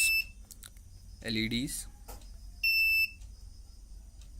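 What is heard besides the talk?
IoT project buzzer controlled by switches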